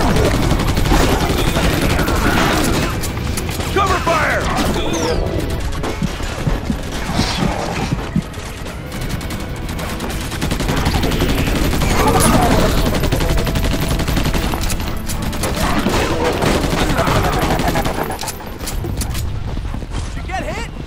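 Gunfire in the Battle Los Angeles Xbox 360 demo: dense, continuous bursts of automatic fire and battle clatter run throughout, with voices shouting over the din.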